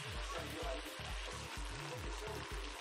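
Lardons sizzle and crackle in a frying pan, cooking for a tartiflette. The close, steady, hissing fry runs throughout over a low, rhythmic background pattern.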